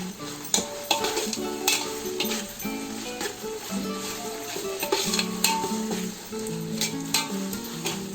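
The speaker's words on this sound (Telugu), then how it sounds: "ఇక్కడ నేను జింజర్ గార్లిక్ పేస్ట్ 3 tablespoons వేస్తున్నాను." Ginger garlic paste frying and being stirred in a pan for Ambur-style chicken biryani, a steady close sizzle broken by repeated sharp clinks of a spoon against the metal, with no voices.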